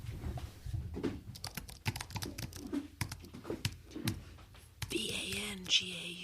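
Fingers tap a computer keyboard in quick, irregular bursts of soft clicks, close and quiet, with faint whispering and rustling around them and a brief brighter scrape near the end.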